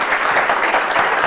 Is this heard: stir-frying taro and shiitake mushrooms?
no